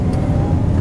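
Perodua Myvi tyres rolling over a rough road surface, a steady low rumble and broadband road roar heard from inside the car, continuous and fairly loud with no talk.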